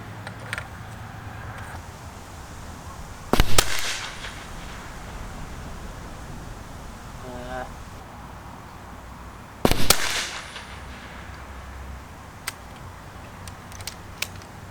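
Big-bore airgun fired from refilled cartridges, two sharp, loud cracks about six seconds apart over a quiet outdoor background with a few faint clicks.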